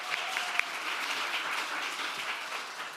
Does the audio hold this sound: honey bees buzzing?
no